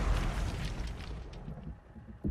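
A weapon fires and an explosion follows in a turn-based World War 2 tactical strategy game, a dense rumbling blast that fills the moment and slowly decays, ending in a short sharp knock.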